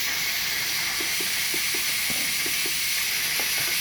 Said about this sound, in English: All that's happening in here is it's boiling and making more steam than can release.